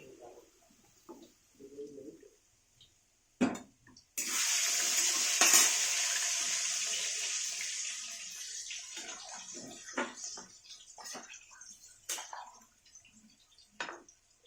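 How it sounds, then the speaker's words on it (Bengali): Water is poured into a pan of frying jackfruit curry seasoned with ginger paste and black pepper paste, bursting into a loud sustained hiss and sizzle that fades over several seconds, followed by scattered utensil clinks. "এখন দিয়ে দেবো জল।"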